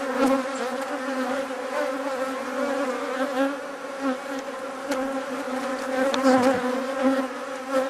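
A dense, steady drone of honey bees during a beehive inspection, loud and close, holding at an even level throughout with slight swells and no speech.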